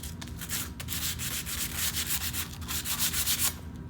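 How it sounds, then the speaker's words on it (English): Sandpaper rubbed briskly back and forth along the edge of a sheet metal piece, a close, steady run of raspy strokes in a quick rhythm. "we can use some sandpaper to clean it up a little bit so it's not as sharp and there's no burrs and it's a nice smooth edge"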